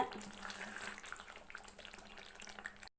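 Steady bubbling sizzle of hot oil boiling in a pan while making onion pickle, a dense crackling hiss that continues throughout before cutting off abruptly at the end.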